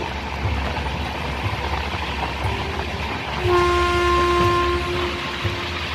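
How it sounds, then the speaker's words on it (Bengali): A cartoon train rushes past at speed with a rumbling, clattering rail roar, and partway through a loud sustained horn blares over it, near and unaccompanied by talk. "ডাউন ট্রেনটিও ঝড়ের গতিতে বেরিয়ে গেল।"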